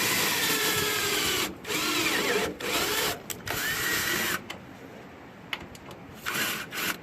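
A cordless power drill pre-drills a hole for a self-tapping screw outdoors in the cold, whirring in several bursts, revving up and down with short pauses between, close by and fairly loud.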